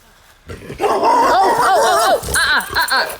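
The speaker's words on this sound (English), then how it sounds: "here comes a puppy" A dog barks and yips several times in quick succession on a hiking trail, close and fairly loud, with tonal whining barks after a short quiet opening and a few sharper yelps toward the end.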